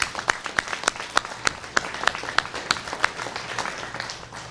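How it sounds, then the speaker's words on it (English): Scattered clapping from a small crowd, individual claps distinct and irregular, moderately close, with faint voices underneath. "y'all give a round of applause."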